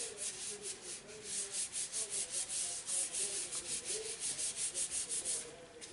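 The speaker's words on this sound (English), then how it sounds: "rub that down to help it adhere" Rubbing down a gatefold card by hand to make it adhere, a soft, rhythmic scratchy rubbing repeated in quick regular strokes, close and fairly quiet, with no talk.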